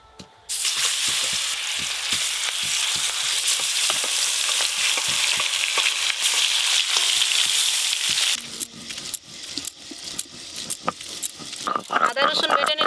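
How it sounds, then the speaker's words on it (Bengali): Pangas fish pieces coated in salt and turmeric hit hot mustard oil with a sudden loud, steady sizzle that crackles close up, then eases as someone talks over it. "এবার এই মাছগুলো ভেজে নেব।"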